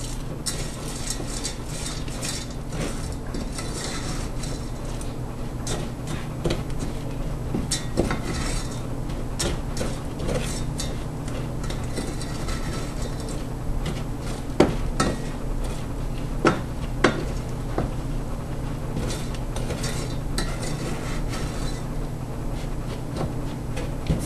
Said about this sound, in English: that's why we stir it constantly so that it doesn't stick to the pan and burn